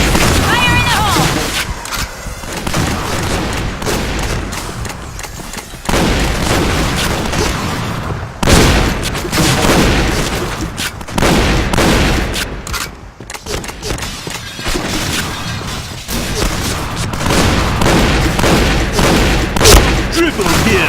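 Grenade blasts and shotgun fire from the shooter game Point Blank in a burning hall map pound loudly and almost without pause, with booming hits and announcer voices over the chaos.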